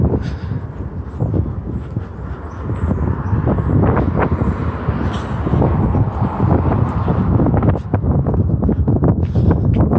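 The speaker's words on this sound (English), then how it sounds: "It is windy." Steady wind in Halifax, Nova Scotia rushes and buffets the microphone throughout, a continuous loud blustery roar with gusty low rumbling.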